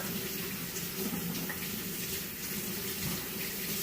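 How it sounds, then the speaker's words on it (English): Hands being washed under a running kitchen tap, a steady close rush of water splashing into a sink that holds evenly for a few seconds with no voices. "And I gotta wash my hands."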